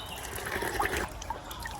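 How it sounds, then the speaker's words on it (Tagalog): Water from a natural spring trickles and splashes continuously at close range, a soft, steady babbling flow with no voices. "Bukal ito."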